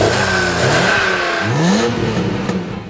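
A BMW M3 engine revs up sharply from idle, rising in pitch and then settling back, close and fairly loud with no talking.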